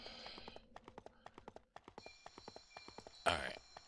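Rhythmic galloping horse hooves in Dynasty Warriors 4, a quick steady clip-clop run of evenly spaced beats ending in a sharp burst, with faint talk underneath.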